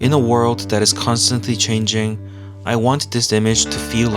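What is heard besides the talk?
None of the usual background noises is heard.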